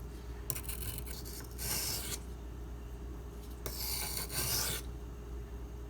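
Blade of a Spyderco Lil Native knife in Rex45 steel being sharpened, two long, close rasping passes over a low steady hum, with quieter scraping between them and no talk.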